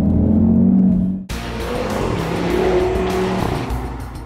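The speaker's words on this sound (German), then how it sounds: "Besonders hier als RS mit 400 PS aus diesem Fünfzylinder," Audi TT RS with a 400 hp five-cylinder engine, a steady loud engine drone after a sharp cut, sustained as the car runs close by, no talking.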